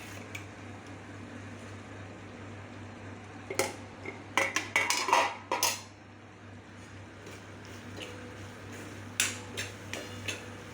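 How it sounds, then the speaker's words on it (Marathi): Okra tipped into roasted masala in a pan and stirred, heard as a cluster of clattering spoon and pan scrapes in the middle and a few later knocks over a low steady hum; no talk. "आता ह्या मसाल्यामध्ये ही जी भेंडी आपण ठेवलेली आहे ती टाकायची."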